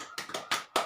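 Four sharp hand claps in an uneven rhythm, close and loud, part of a group clap chant for a family empowerment meeting exercise.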